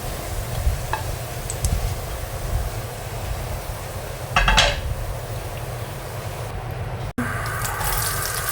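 Oil sizzles steadily in a pan being reused for sautéing sausage for homemade carbonara, with a few louder stirring scrapes and a brief clatter near the end; no one speaks.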